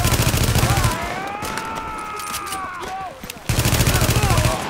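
Machine-gun fire in the video game The Division comes in dense rapid bursts at the start and end, with a quieter stretch between them where other game sounds are heard.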